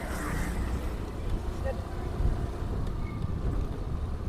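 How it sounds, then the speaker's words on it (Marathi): Strong, gusty wind blows steadily across a dark road scattered with dry leaves, a continuous loud rushing roar with no pauses. "एकदम पाचोळा सैरा वैरा वारा पिसाटा आहे"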